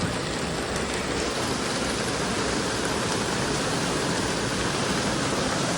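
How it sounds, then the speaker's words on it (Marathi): Heavy rain pours down in a dense, steady roar, loud and unbroken throughout, with no voices. "लई पाऊस पडतो लई जोरा पाऊस आला आहे"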